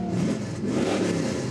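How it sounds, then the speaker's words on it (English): A 2015 Dodge Hellcat revs with its exhaust cutouts open, a loud, steady, close engine roar that swells slightly as it climbs, with no voices over it. "The exhaust cutouts that we install do nothing for performance, but they sure do something for the soul."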